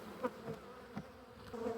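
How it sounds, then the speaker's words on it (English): Agitated honey bees buzzing around an opened hive during inspection, a faint continuous drone punctuated by a few bees zipping close by in quick bursts. "Oh, they really want me now."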